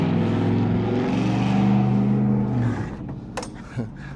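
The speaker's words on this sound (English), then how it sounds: "it's pretty busy here, lots of traffic, so please excuse all the noise, all the cars passing by" Cars on a busy road beside 19th Avenue pass close by, a steady rush of traffic swelling and then fading, with a brief sharp knock near the end.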